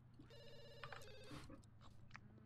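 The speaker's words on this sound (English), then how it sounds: "The phone is ringing." A telephone rings in The Sims 2 video game, a trilling electronic bell that repeats steadily at a fairly low level, with light game sounds around it.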